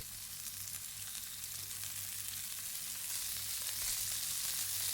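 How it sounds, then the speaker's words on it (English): Steak searing in melted clarified butter in a cast iron skillet, a steady, hissing sizzle heard close up and alone, rising slightly in intensity toward the end. "We are melting our clarified butter in the cast iron skillet. We're melting it and now adding in the steak."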